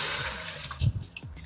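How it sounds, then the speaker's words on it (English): Water poured into a pot of split peas on the stove, a short gush and splash close by that swells briefly then trickles off into lighter dribbles. "just added some water."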